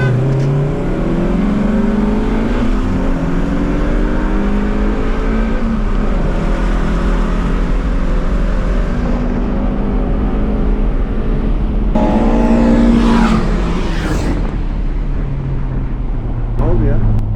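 BMW E30 M3 and Audi TT at a drag race on the Istanbul Park circuit, one engine loud and close as it revs and accelerates hard, pitch rising through gear changes with a sharp shift near the end, while people talk inside the car.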